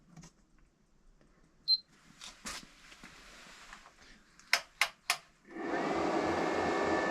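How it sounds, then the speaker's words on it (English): A space heater set on high, powered by a LiFePO4 battery, starts with a few clicks, then a steady, loud fan whoosh takes over and runs on continuously. "So the space heater's on high"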